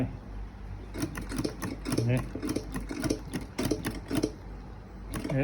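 A household sewing machine runs in short bursts during a demonstration of threading the machine and fitting its wire thread guide. Its close, rapid mechanical chatter starts and stops repeatedly, with a voice talking over it.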